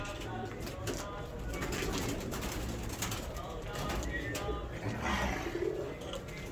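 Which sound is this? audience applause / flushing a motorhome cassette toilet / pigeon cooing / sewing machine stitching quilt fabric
pigeon cooing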